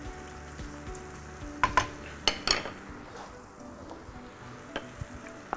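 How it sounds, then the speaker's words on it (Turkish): Eggplants frying in a pan for a Ramadan keşkek meal, a soft continuous sizzle broken by several sharp clinks of utensils against cookware, close by and with no voices. "Patlıcanlar kızarıyor."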